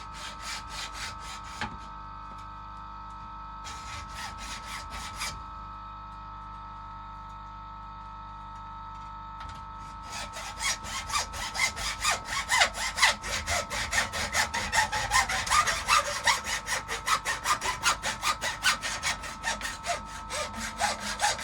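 A hand saw cuts a small part for a feeder modification, with two brief strokes early on and then a long run of quick, steady rasping strokes close by over a faint background hum.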